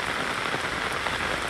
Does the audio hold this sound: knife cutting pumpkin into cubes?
no